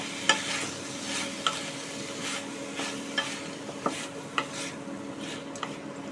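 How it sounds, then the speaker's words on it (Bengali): Steady sizzling of diced radish stir-frying with spices in a pan, with a spoon or spatula scraping and clinking against the metal every second or so. "ডুমো করে কেটে রাখা মূলো অ্যাড করে দিয়ে খুব ভালো করে মশলার সাথে কষিয়ে নেব"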